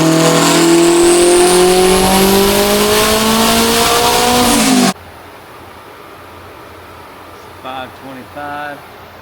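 A turbocharged Honda Accord accelerates hard, its engine note climbing loud and close for about five seconds before cutting off abruptly. A quiet idle follows, with brief voices near the end.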